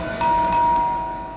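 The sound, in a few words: doorbell ringing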